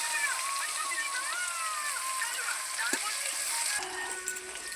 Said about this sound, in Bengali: তেলের মধ্যে পেঁয়াজটা দিয়ে দিল, জিরে ফোড়ন দিয়ে পেঁয়াজ দিল।